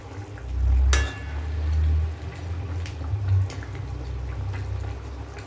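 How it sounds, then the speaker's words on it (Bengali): Fish curry broth with fried cauliflower bubbling in a covered pot: a low, steady simmering rumble with soft gurgles and a lid or utensil clink near the start. "ঝোলটা ফুটে উঠেছে।"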